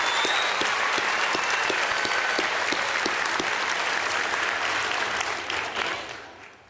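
A large audience applauds at a high school graduation ceremony, sounding as a thick, continuous roar of clapping that holds steady, then tapers and fades out over the final second.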